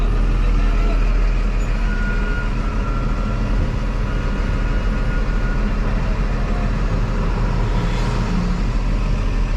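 Buses idle and rumble at a busy transportation hub in Caracas, Venezuela, a steady, loud wash of engine noise with a faint hiss near the end.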